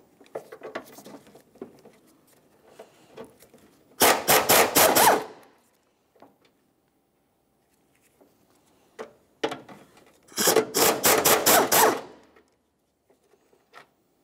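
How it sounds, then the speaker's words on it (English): A pneumatic impact wrench spins off 13mm bolts on the upper control arm of a 2002-2009 Chevrolet Trailblazer, two loud rattling bursts of about a second each, separated by quieter clicks and handling noises. "Since these are easier to get to, I can use an air tool for this."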